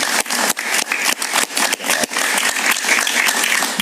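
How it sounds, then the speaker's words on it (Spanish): A studio audience claps steadily, close and dense, for a few seconds without any talking. "Un aplauso para él, por favor."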